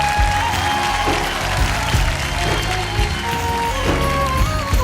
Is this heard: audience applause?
yes